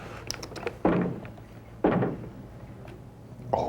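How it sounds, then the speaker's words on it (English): Heavy knocks land on a wooden door, two or three loud, separated thuds about a second apart, alone without talk. "Knock twice if I'm not the first."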